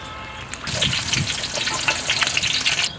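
Chopped onion hits hot oil for a chicken vegetable khichdi and bursts into a loud, close sizzle. The crackling hiss runs steadily for about two seconds, then cuts off abruptly.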